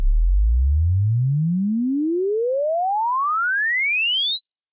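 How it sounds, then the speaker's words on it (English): An original sine sweep test signal for impulse response recording, a single clean pure tone gliding smoothly upward from a deep low hum to a high whistle over several seconds. "Up here you can see the original sweep,"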